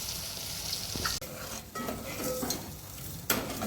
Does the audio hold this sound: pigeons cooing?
no